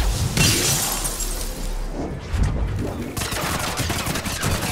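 Mass Effect 3 gunfire crackles in dense, sharp bursts with shattering impacts over a busy game soundscape, loud and close throughout.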